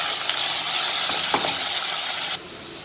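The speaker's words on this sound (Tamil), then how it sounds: "அதுவும் இதோட ஆட் பண்ணி நல்லா வந்து எண்ணெய் பிரிஞ்சு வர அளவுக்கு வந்து வதக்கி எடுத்துக்கலாம்" Tomato sautéing in hot oil for a Tamil dry anchovy (nethili karuvadu) fish curry, a steady loud sizzle with a few stirring scrapes, dropping to a quieter hiss near the end.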